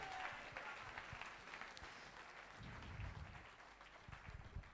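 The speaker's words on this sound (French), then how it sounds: "Applaudissez Jésus" A church congregation applauds at a worship service, dense steady clapping from a crowd filling the room for several seconds, with voices mixed faintly underneath.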